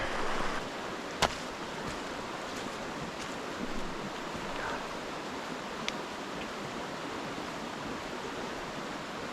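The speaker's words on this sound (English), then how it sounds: "by the river." A river flows steadily in the frosty, snow-dusted Peak District, a continuous rushing wash of water with a single sharp click early on.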